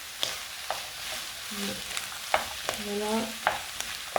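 Ground beef frying with onions and carrots for a lasagna, stirred in the pan: a soft steady sizzle broken by repeated spoon knocks and scrapes, with a brief word spoken once.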